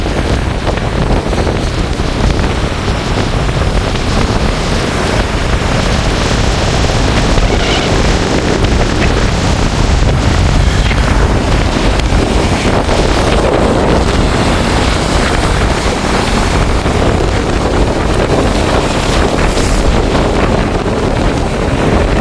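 Storm surf on the sea at Point Pedro, a loud unbroken roar of crashing waves with heavy wind buffeting the microphone throughout, no voices.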